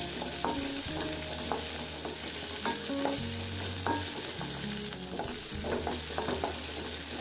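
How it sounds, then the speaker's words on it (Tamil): Ginger, garlic and shallots fry in hot oil in a pan for Tamil egg curry, giving a steady close sizzle with repeated scraping stirs and clinks throughout, no talking. "நம்ம இஞ்சி பூண்டு சின்ன வெங்காயம் போட்டு நம்ம வதக்கிக்கலாம்"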